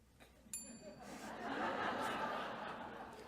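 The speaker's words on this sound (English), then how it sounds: "During those speeches, you're going to hear a series of bells." A single bright ding of a debate timing bell rings out faintly at an Oxford debate, followed by soft audience chuckling and murmur in a hall.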